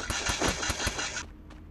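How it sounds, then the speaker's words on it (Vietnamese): Gunfire in the Garena Free Fire video game: a rapid burst of about five sharp, evenly spaced shots at close range, then the firing stops. "Tiếng súng bắn kiểu bụp bụp bụp bụp anh em ạ."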